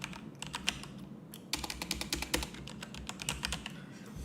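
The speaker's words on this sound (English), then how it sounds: "just typing shit out" Someone types on a computer keyboard in rapid, uneven bursts of close, crisp key clicks, with one short pause early on and no talking.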